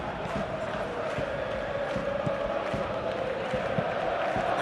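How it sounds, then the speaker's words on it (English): Dense stadium crowd roar at a Champions League quarter-final between Atletico Madrid and Barcelona, a steady, distant wash of cheering and chanting that holds at one level throughout with no clear peaks. "Now the crowd are demanding that they just finish this off."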